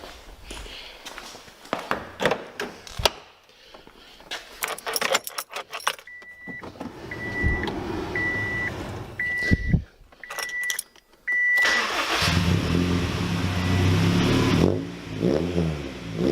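Keys jangle and a car chimes several times before the engine with a sticky starter cranks and catches, settling into a steady idle.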